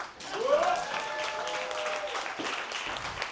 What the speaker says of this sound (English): But y'all better give a clap.